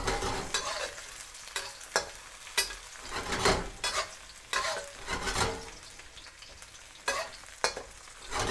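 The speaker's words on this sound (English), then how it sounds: "Shallots. Cook it for about 10 seconds." Shallots fry and are stirred in a pan over medium-high heat for Filipino chicken adobo, giving a steady sizzle broken by repeated sharp scrapes and clacks of the utensil, close and fairly loud with no talking.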